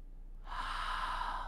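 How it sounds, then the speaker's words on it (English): A deep, audible inhale through the nose during a yoga back bend, starting from near silence and swelling into a steady, close breath sound. "Inhale to puff up the front of the body so you're pressing that belly forward"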